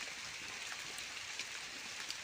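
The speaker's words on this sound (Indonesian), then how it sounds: "Biarpun hujan." Steady rain hisses evenly on a fishing trip outdoors, a continuous soft wash of falling drops with no voices.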